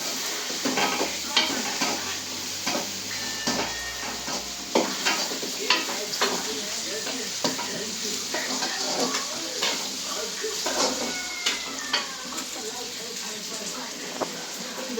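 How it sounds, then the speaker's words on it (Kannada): Onion and chili sizzle steadily in a pan, with a dense crackling hiss and frequent clinks of a spoon stirring against the metal throughout. "ಆನಿಯನ್ನು ಮತ್ತೆ ಚಿಲ್ಲಿ ಫ್ರೈ ಆಗ್ತದೆ"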